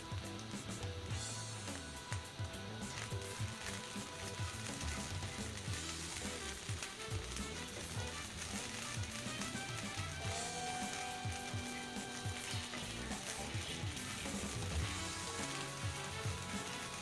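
Cauliflower rice frying and browning in a pan for a cauliflower fried rice with chicken and mushrooms, a steady close crackling sizzle with occasional stirring scrapes, no talk.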